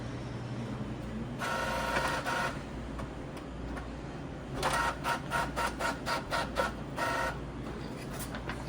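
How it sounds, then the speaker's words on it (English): A ticket printer prints a cut sheet in short mechanical bursts, one brief run then a longer stretch of rapid rhythmic chattering, fairly close, over a steady background hum with no talk. "We're going to print that. I'll just show it getting printed out over here."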